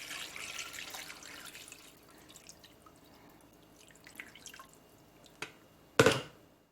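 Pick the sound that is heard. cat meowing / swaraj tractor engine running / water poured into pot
water poured into pot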